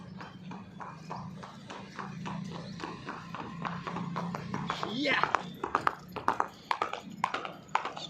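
Horse hooves clip-clop steadily on a road as the horse runs, a close, rhythmic clatter of sharp strikes that grows louder and more irregular toward the end, over a low background hum.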